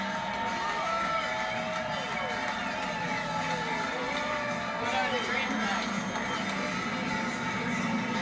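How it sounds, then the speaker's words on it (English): A crowd roars and cheers as vintage cars pass at the Henry Ford Museum. The dense, steady roar blends with passing engine noise, and a voice talks over it throughout. "And a big roar from the crowd as they come past."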